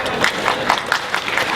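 Audience clapping at a film audio launch event, a brief burst of steady, dense applause close by.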